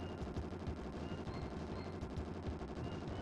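Rapid, continuous gunfire from the video game Bazooka Blitzkrieg, a dense rattle of shots at an even, fast rhythm that continues unbroken at a quiet level.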